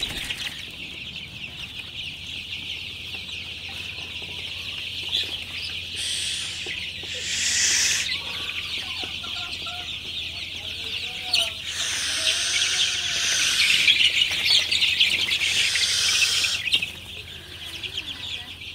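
Sonali super hybrid chicks in a poultry shed cluck and peep in a steady, busy chorus over a constant low hum, with a few louder bursts of calling throughout.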